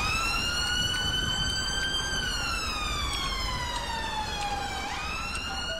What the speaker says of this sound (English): I don't know if the siren is for this